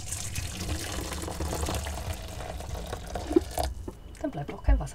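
Water from boiled Brussels sprouts is poured off from the pot, a continuous splashing rush that cuts out near the end, followed by a few clinks and drips, with a voice speaking over it.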